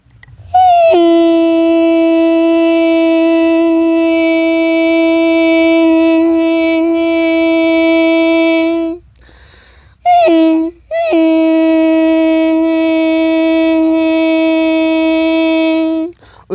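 A voice imitates a train engine with a long, steady droning tone held for several seconds, a brief break, then the drone resumes.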